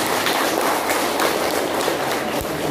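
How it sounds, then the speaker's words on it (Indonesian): An audience at a dialogue with Ridwan Kamil in West Java applauds for Ciamis, giving a loud, dense wash of many hands clapping together that holds steady throughout without breaks. "tepuk tangan untuk Ciamis"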